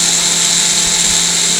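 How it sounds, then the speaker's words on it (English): A Merlin Classic juicer blender running loud and close, a steady high-pitched motor whine with no talk over it. "same blender I am using"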